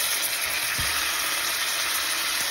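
Fish fries in a masala curry in a home kitchen, giving a steady broadband sizzle that stays constant and fairly loud, with a faint clink or stir now and then.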